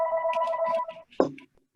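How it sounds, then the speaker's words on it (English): A telephone rings close by with a steady electronic tone lasting about a second, then stops and a brief voice is heard. "And of course, the phone starts ringing."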